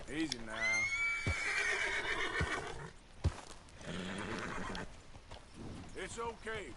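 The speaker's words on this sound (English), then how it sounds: "This horse is out of control, but it's a beautiful creature though." A horse in Red Dead Redemption 2 lets out a loud, long whinny near the start, followed by hoof clip-clop and a voice talking over the rest.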